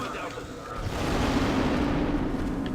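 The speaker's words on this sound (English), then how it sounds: "It's a good thing you got real close to that massive explosion." A massive explosion in the video game Star Wars: Republic Commando makes a loud, sustained, rumbling roar that swells and holds steady for a few seconds.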